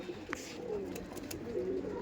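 A male Panjabi pigeon sitting on eggs coos in soft, close, low throaty phrases, two or three rolling calls over about two seconds with no talk.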